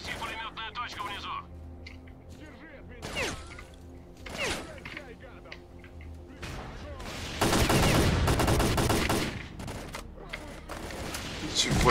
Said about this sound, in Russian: Снеси пулеметную точку внизу